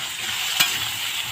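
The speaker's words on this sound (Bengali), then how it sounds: "এবার দেখো আলুটাকে আমি ভেজে নেব" Potatoes frying in hot oil give off a loud, continuous close sizzle, with one brief clatter midway and no voices.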